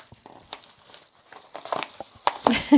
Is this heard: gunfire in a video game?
no